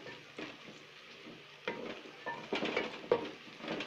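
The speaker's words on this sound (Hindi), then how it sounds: "प्याज मेरे सुनहरे हो गए हैं। अब इसमें लहसुन डालेंगे।" Garlic and golden onions frying in a pan give a steady, close sizzle with occasional stirring scrapes and light clinks, all without speech.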